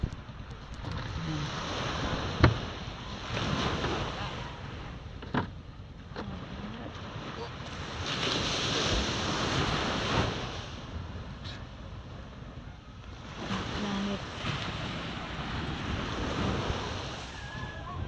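Ocean waves wash onto a beach shore, rising and falling in slow, repeated surges with gusty wind noise over the microphone, fairly faint overall with a few sharp knocks.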